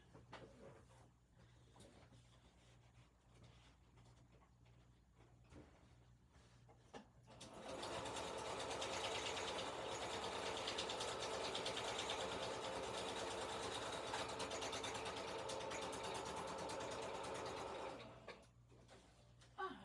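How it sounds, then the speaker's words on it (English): A sewing machine stitches a lace sample tag card, its steady motor whir running loud and continuous for about ten seconds after a quieter stretch of room noise, then stopping. "All right, I'm going to go over the sewing machine."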